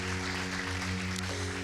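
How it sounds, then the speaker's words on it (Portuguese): A church congregation claps together over sustained keyboard or organ chords, a soft, continuous wash of hands under the held musical tones. "Você pode aplaudir ao Senhor"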